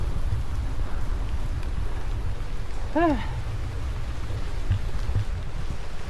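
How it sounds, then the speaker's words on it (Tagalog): Light rain falling in Liliw, Laguna, a steady low hiss heard outdoors, with a brief rising whistle-like tone in the middle. "Medyo maulan-ulan dito sa Laguna."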